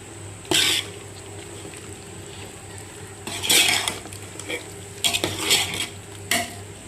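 A spoon scrapes and clinks through chicken as coriander powder, chilli powder and garam masala are mixed in for a Muslim-style biryani, in four or five short bursts of stirring separated by quiet pauses, with no talking.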